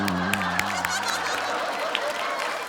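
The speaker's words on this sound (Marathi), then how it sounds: "जोरदार टाळ्या झाल्या पाहिजे त्या दोघांसाठी." A studio audience at a Marathi comedy show claps and laughs, with a brief musical tone underneath at first, then a moderate spatter of applause that fades slightly toward the end.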